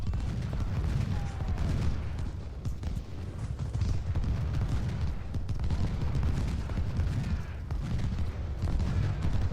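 Musket volleys crackle in Ultimate General: Civil War, a continuous patter of distant rifle fire and scattered shots over a low battlefield rumble, steady and fairly muted throughout.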